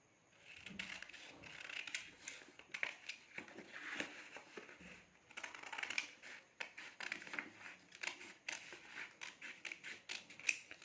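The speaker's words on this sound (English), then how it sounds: "And cut the strips." Scissors snipping through paper strips for a craft flower, a rapid series of close, crisp cuts with short pauses between bursts, no talking.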